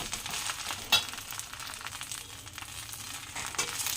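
Moringa leaves stirred and dry-roasted in a pan, a soft continuous crackling sizzle with occasional scraping stirs, quiet and close, with no talking.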